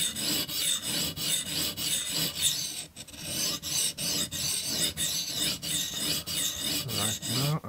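A knife blade, a TRC XS Splinter fixed blade, is stroked across a diamond plate on a TSPROF Blitz Pro sharpener in steady, rhythmic rasping passes, close and continuous with brief pauses between strokes.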